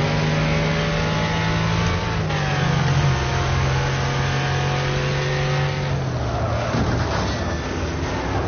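A car engine in the racing game Wreckfest surges after a downshift, holding a loud steady drone that climbs in pitch as the revs rise and fall.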